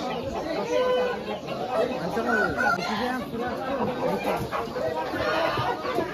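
A rooster and hens cluck and call amid a busy outdoor poultry market, with vendors and buyers chattering and bargaining over the birds throughout.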